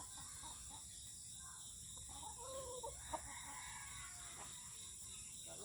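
A rooster crows once, faint and distant, against a steady background hiss and low murmur.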